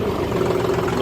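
A John Deere 5310 tractor's diesel engine runs close by with a steady, even low rumble and no change in pace.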